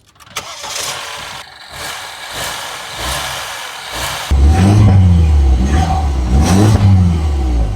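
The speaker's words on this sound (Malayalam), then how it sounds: "നമുക്ക് എഞ്ചിൻ സൗണ്ട് നോക്കുവാണെങ്കിൽ വളരെ സ്മൂത്ത് ആയിട്ടുള്ള എഞ്ചിൻ സൗണ്ടാണ്" A 2014 BMW 316i with a 1.6 litre turbo four-cylinder cranks and fires partway through, settling into a smooth, loud idle with a few light revs, close by.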